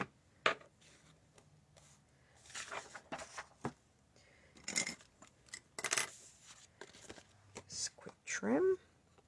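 Scissors snipping paper during fussy cutting for a folded greeting card, a run of small crisp cuts and rustles spread across the clip, fairly quiet, with soft handling noises between.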